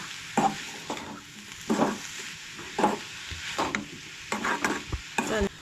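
Turmeric and garam masala being stirred into mushroom gravy in a pan, a spoon scraping in repeated distinct strokes about once a second over a soft low sizzle, close and fairly loud.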